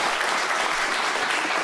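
A studio audience claps together in a dense, steady burst of applause, loud and close, with no voices on top.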